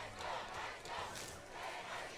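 A high school football crowd on senior night, with the student section cheering from across the stadium, a faint, distant, sustained roar rising and falling in waves.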